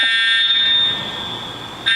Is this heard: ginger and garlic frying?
no